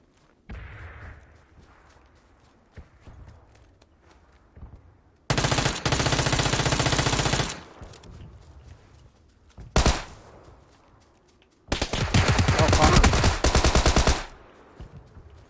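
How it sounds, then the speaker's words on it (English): Gunfire in PUBG on PS4 Pro: loud bursts of automatic fire, one about two seconds long, a single sharp shot, then a longer burst of nearly three seconds, with quieter ambient game noise between. "Someone else shooting at me."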